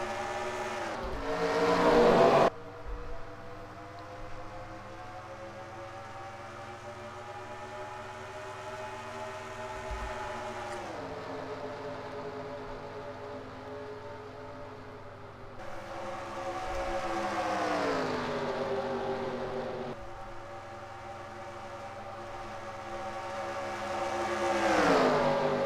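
Race car engines in an oval stock-car racing game roar at the green flag start in England, with long rising and falling whines as the pack accelerates, steady and fairly loud, without talking.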